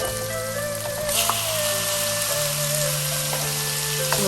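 Pork frying in a wok, heard as a loud, steady, close sizzle with a constant hiss and occasional faint crackles, with no talk.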